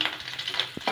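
Prawns frying in oil in a pan make a soft sizzle, with a couple of brief scraping stirs and a light clink of a utensil, close and quiet.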